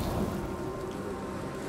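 Steady rumbling thunderstorm noise with rain in the video game Icarus, a continuous dense roar with no talking.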